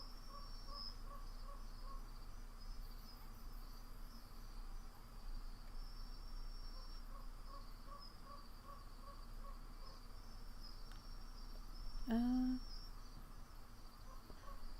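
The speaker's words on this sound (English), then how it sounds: "The chirping of crickets in the tall grass greeted you, quiet and familiar." Crickets chirp steadily in tall grass within a video game scene, a continuous soft high trill over a quiet ambient bed, with a brief louder sweeping call near the end.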